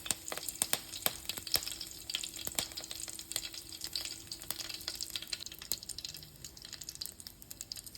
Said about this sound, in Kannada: ಒಂದು ಪ್ಯಾನಿಗೆ ಎಣ್ಣೆ ಹಾಕ್ಕೊಂಡಿದ್ದೀನಿ, ಸ್ವಲ್ಪ ಸಾಸಿವೆ ಹಾಕ್ಕೊತಾ ಇದ್ದೀನಿ, ಕರ್ಬೇವಿನ ಸೊಪ್ಪು ಹಾಕ್ಕೊತಾ ಇದ್ದೀನಿ